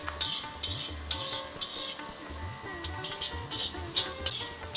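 Beans and carrots frying in a pan, steady sizzle broken by repeated scraping stir strokes and light clinks of a utensil against the metal, close and moderately loud with no talking.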